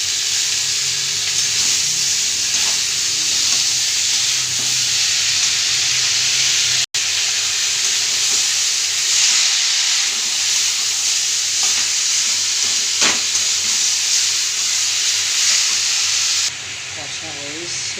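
Boiled bottle gourd and chickpeas being sautéed with potato and spices in a pan, a steady loud sizzle and hiss with occasional stirring scrapes running throughout.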